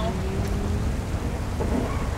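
Rain in a GTA racing video game, a steady hiss of falling water running under game engine hum and faint voices, with a brief brighter burst midway.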